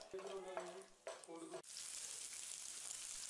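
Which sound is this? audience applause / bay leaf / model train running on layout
bay leaf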